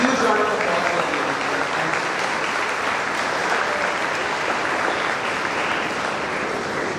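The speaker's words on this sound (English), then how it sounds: "A huge round of applause for you." Applause from a large audience at an arts festival opening ceremony, a loud continuous roar of clapping sustained evenly for seven seconds, with some voices mixed in.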